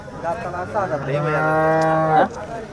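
Cows at a cattle market in Sangola, Maharashtra give a long, loud mooing call that rises and holds before breaking off, with faint background noise from the market.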